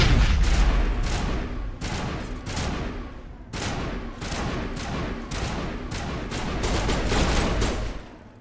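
Sustained heavy gunfire in the video game Mass Effect Legendary Edition, dense overlapping bursts of shots and impacts, loud and continuous for several seconds.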